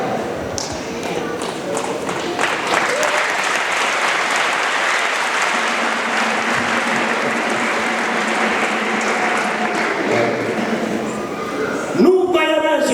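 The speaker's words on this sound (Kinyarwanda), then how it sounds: "nasaba yuko tumuha amashyi mu kanya" A church congregation applauds steadily for a long stretch, dense sustained clapping with talk mixed in, then it breaks off near the end.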